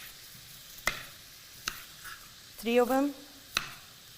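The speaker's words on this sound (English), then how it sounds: "Now I'm gonna cut also the garlic. We're just gonna slice it." Knife slicing garlic on a cutting board, four sharp separate cuts spaced about a second apart in a quiet kitchen, with a few spoken words between them.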